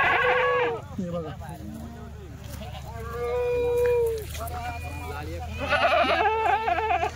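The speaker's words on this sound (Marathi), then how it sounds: "शेळी बघशाल ती अशी फुल भरलेली डायरेक्ट दुधाची" Goats at a dairy farm bleat close by in several long, wavering calls, one after another with short gaps between them. Farm background noise continues underneath.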